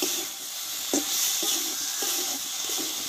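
Okra fries in a pan with ground nigella seeds scattered over it, giving a bright continuous sizzle and hiss close by, with a few soft stirring knocks.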